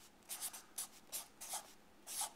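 Chalk scratches across a classroom board in quick, faint strokes, about half a dozen short squeaky marks in an irregular rhythm, close and alone without speech.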